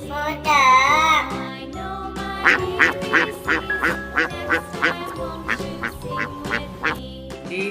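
A series of quacks in a quick, steady rhythm, bright and close, following a short sung or tonal phrase at the start.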